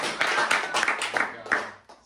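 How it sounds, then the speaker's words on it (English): A comedy club crowd at a stand-up game show claps for itself in a short, moderately close round of applause, with individual hand claps audible and a voice briefly mixed in underneath. "Give yourselves a round of applause."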